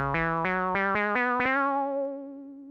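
A playful synthesizer patch dubbed a silly cat sound, made for homemade Tomodachi Life style game music, steps through a short bright melodic phrase of bouncy notes ending on a held tone that fades out, quiet with no voices.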